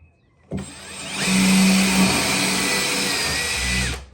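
A power drill fitted with a tile bit bores through bathroom wall tile into the wood behind it, a loud, close, steady whine that ramps up, holds for about three seconds, then cuts off.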